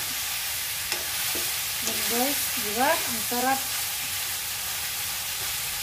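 Chicken with Chinese cabbage and tomato frying in a pan, a steady soft sizzle at close range while someone talks briefly over it.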